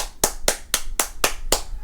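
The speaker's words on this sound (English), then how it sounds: "Let's give him a round of applause." Six sharp hand claps in a steady, evenly spaced rhythm, close and loud, each a crisp isolated smack with quiet gaps between, no voices.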